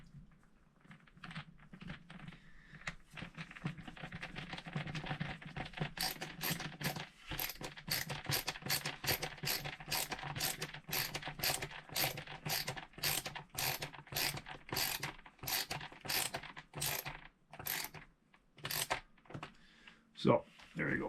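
Rapid ratcheting clicks from a screwdriver tightening screws on a Telecaster-style guitar kit, a long run of sharp, evenly spaced ticks over a low background hum.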